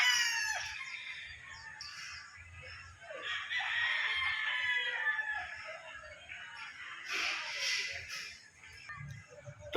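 Super Brown Red gamefowl roosters crowing on a breeding farm, several long cock-a-doodle-doo calls overlapping with clucks, fairly close and clear over a low background hum.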